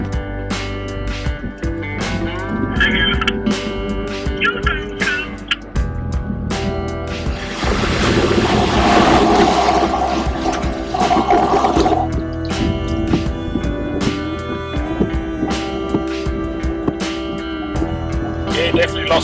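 Truck crossing floodwater over a Simpson Desert road, a broad loud rush and wash of water against the body midway through, under a steady engine drone with people talking inside the cab.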